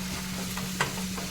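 A tempering with chopped tomato fries in a pan for semiya, a soft continuous sizzle with a low steady hum beneath and one brief clink of a spoon, close and fairly quiet.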